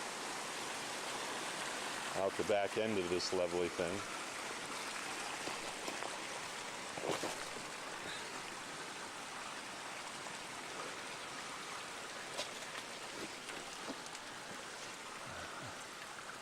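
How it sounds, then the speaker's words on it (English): Free water runs from a big, damaged iron or steel pipeline pipe into Pine Creek in San Isabel National Forest, a steady broadband rush throughout, with someone talking over it near the start. "We got some free water flowing down here"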